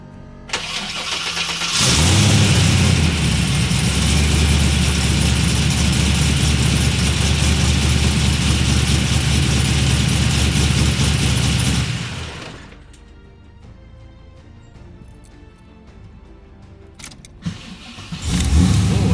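A car engine fitted with a newly installed Holley Blackheart starter cranks, catches and runs loudly for about ten seconds, then shuts off and leaves quiet clicks before a brief restart near the end.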